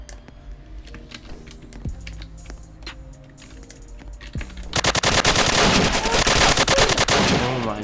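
Gunfire in the video game Apocalypse Rising: scattered clicks and single shots, then a dense, loud burst of rapid automatic fire for about three seconds.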